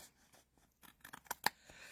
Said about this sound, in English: I'm going to take my scissors, my long bladed scissors, and just follow the fold line